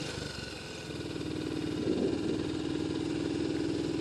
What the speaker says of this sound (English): The C15 is just excellent at chugging along and going uphill.